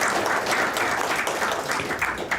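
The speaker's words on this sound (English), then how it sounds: "give a huge round of applause to everybody who came out tonight" An audience at an evening event gives a short burst of enthusiastic applause. The clapping is steady and close, with no one speaking.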